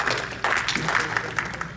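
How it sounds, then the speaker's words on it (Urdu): Applause from an audience at an Urdu Academy tribute event for Allama Iqbal, steady dense clapping filling the room for a short burst with no voices over it. "شکریہ آپ کی تالیوں کا ان کے لیے۔"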